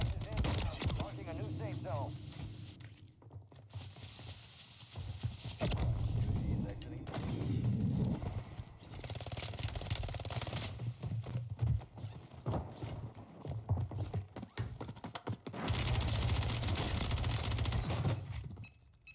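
Gunfire from the video game Warzone, with dense, continuous bursts and booming shots that carry through most of the stretch, while players talk over the game sound.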